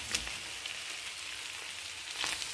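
Mushrooms fry in a pan with tomato paste and a little turmeric, giving a steady, close sizzle with a few faint stirring taps and no talk.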